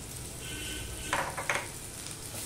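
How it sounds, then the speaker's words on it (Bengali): Ginger paste frying with onions in a pan, a soft steady sizzle with a brief burst of louder hissing and a spoon clink in the middle. "এবার দিয়ে দিচ্ছি 1 চামচের মতো আদা পেস্ট"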